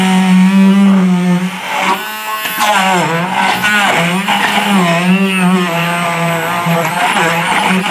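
A 3-in-1 stick blender runs on turbo through an overfilled container, a loud, close motor whine that rises and falls in pitch as it bogs and strains under load, continuous throughout.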